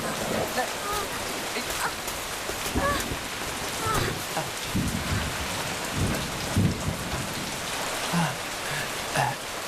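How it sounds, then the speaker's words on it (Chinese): Steady rain pours down in a dense, even hiss, with drops pattering on surfaces and occasional low rumbles throughout. "下雨了，快起来！"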